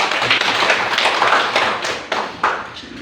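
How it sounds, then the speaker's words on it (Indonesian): A classroom of fourth-grade pupils claps for a classmate named Eko, a short burst of close, uneven hand claps and taps that thins out with a few scattered final claps. "Iya, tepuk tangan dulu untuk si Eko."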